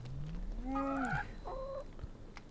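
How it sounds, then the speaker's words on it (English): Porgs, small bird creatures from Star Wars: The Last Jedi, give a rising whistled squeak followed by a couple of short warbling chirps, fairly close over a quiet low rumble. "These are porgs, I think."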